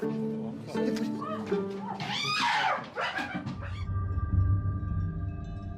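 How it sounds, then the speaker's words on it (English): Dogs whimper and yip close by, mixed with high whining cries, followed by a low rumbling growl-like sound. "Come, smelly dogs."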